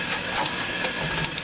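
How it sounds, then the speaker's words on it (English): Cold tap water runs over drained lasagna noodles, a brief, close, steady hiss of splashing water. "that's cold water I have running over the noodles, so they won't be like sticking together"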